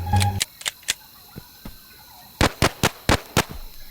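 Gunfire in a Bigfoot forest video game: a series of sharp, loud bangs, a few scattered early then a quick cluster of five or six shots near the end, with no talk.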